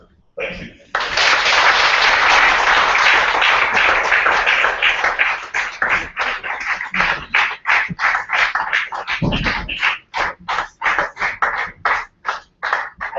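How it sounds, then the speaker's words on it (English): A lecture audience at a public talk on safe blood for saving mothers breaks into loud, dense applause that gradually thins into scattered individual claps, with a few voices briefly mixed in. "Let's give him more applause."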